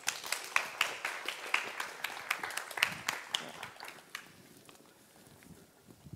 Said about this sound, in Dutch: geef alsjeblieft een warm applaus voor Laura van Geest